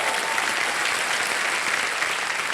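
A television quiz show studio audience breaks into loud, sustained applause: dense, even clapping from many hands that fills the whole stretch without any talking.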